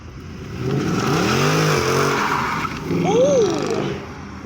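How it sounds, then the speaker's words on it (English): A Mercedes-AMG C63 revving at an outdoor car meet: two distinct throttle blips, each swelling up and falling back, loud and fairly close with crowd ambience behind. "Going to try and get him to rev for us."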